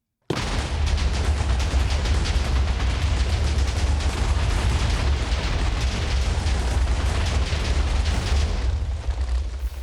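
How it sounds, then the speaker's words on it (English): Instant explosions from a Minecraft mod: one continuous roaring blast texture starts abruptly and rumbles on densely for about ten seconds, loud and close with heavy low-end boom and no talk. "how do I get instant explosions that don't leave a trace?"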